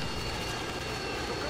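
Harrier jet in a Call of Duty match, a steady roaring aircraft drone filling the scene with faint voices underneath.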